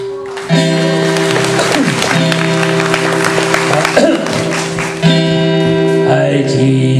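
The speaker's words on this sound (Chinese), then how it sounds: "来来来，掌声给你们" An audience at a live music performance applauds loudly and steadily for several seconds, the clapping blending with ongoing instrumental music.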